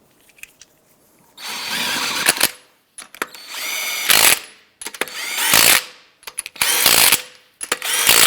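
Power tool, likely an impact wrench, tightening lug nuts on the front wheel of a 2005-2009 Subaru Outback: five loud bursts of a second or two each, separated by short pauses and small clicks.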